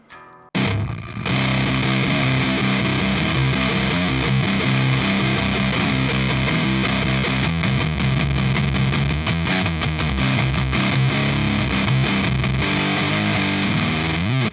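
A heavily distorted electric guitar through an NRG Nuclide tube amplifier plays metal continuously, its tone fuzzy and breaking up with a flabby, farty buzz, loud throughout with no voices.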